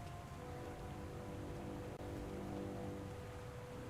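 A waterfall in the King's Quest video game, a continuous broad rushing hiss of falling water, steady and fairly loud with no voices over it.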